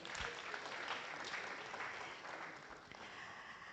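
An audience at a forum on the global order claps for a former heavyweight boxer, a full, steady round of applause that tapers slightly near the end.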